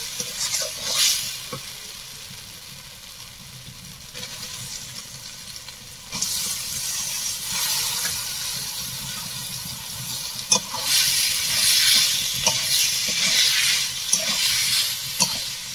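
Chicken dropped into hot oil and spiced masala for chicken tadka sizzles and hisses loudly in bursts, with stirring scrapes and a steady frying crackle throughout.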